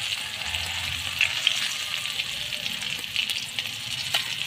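Chicken feet browning in a pan give off a steady, close crackling sizzle with scattered pops, continuous for the whole stretch with no voices.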